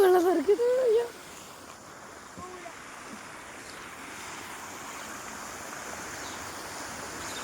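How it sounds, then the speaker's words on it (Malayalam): A fountain in Mysore splashes with a continuous, moderate wash of falling water; a voice is heard briefly at the very start, then only the steady spray remains. "ഫൗണ്ടെയിനാണ് ഗൈസ് മൊത്തം. അത് ചോടുന്നു ഗൈസ്. വെള്ളം തെറിക്കുന്നു, വെള്ളം തെറിക്കുന്നു"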